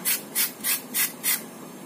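Carrots and other vegetables grated by hand, five evenly spaced rasping strokes, close and clear with a brief pause between each pass, no voices.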